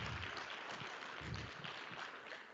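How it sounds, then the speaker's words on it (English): Audience applause for a seminar panel on agriculture's climate resiliency, a steady broadband patter of clapping filling the room at moderate level without speech. "let's first and foremost give our panelists a great round of applause"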